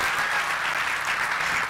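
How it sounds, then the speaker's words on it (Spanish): A church congregation applauds during a service, a dense, steady burst of many hands clapping, close and full, with no talk. "Denle un aplauso al Señor."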